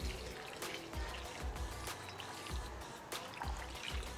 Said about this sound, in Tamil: இப்போ ஒரு நானூறு எம்எல் தண்ணி அதில் ஊற்றிடலாம் நம்ம